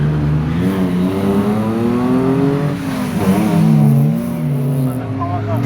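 Drift cars rev and scream their engines at a motorsport stage event, rising and falling pitches loud and near, with a commentator talking over the noise.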